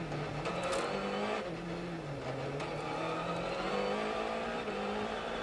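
Onboard a VW Polo R rally car on a Monte Carlo rally stage, the engine droning loudly and steadily with pitch rising and falling through gear changes, plus road and wind roar.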